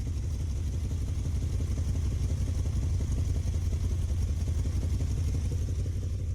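A Dodge Ramcharger engine runs unevenly and a little rough at close range, with a steady low rumble and faint irregular clatter that may come from an exhaust leak.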